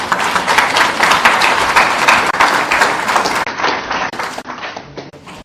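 Audience applause fills the hall after a church-style address in Kenya: dense, sustained clapping from a large crowd, loud and steady throughout, thinning slightly toward the end.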